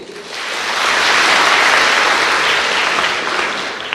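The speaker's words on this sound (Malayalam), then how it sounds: "നിങ്ങൾ കൈയടിച്ചേ" A crowd at a priest's speech breaks into loud, sustained applause that swells quickly, holds as dense clapping for a few seconds, then begins to taper off.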